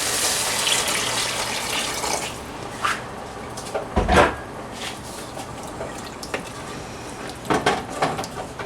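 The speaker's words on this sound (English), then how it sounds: "But now I'm going to add in the broth." Broth pours into a pot of cauliflower and mushroom soup, a close liquid splash and trickle with a few clunks of the pot and container, no voices.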